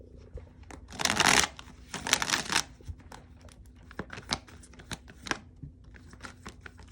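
Tarot cards being shuffled by hand with a few cards flying loose, two loud riffling bursts followed by scattered lighter flicks and taps close by.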